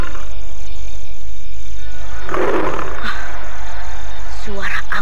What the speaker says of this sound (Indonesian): Suara aum harimau.